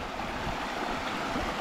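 Water of the Pilón river flows steadily, a dense, continuous rushing wash that stays close and even throughout, with no voices.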